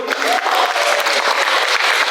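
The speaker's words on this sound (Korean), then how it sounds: "큰 박수 맞으십시오." Indoor audience at a book talk breaks into applause, a brief burst of many hands clapping, fairly loud and steady throughout.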